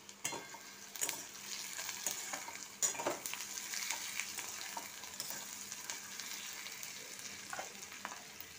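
Fish frying in a pan with spices like ginger-garlic paste, cumin and kasuri methi for a Bengali fish and rice chop, heard as a moderate steady sizzle with occasional utensil clicks and stirring, no voices.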